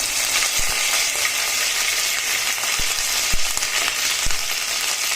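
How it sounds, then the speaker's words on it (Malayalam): Mustard seeds crackle and pop in hot oil over a constant sizzle, with sharp sporadic bursts scattered throughout. "അപ്പൊ നമ്മുടെ കടുക് പൊട്ടിയിട്ടുണ്ട്"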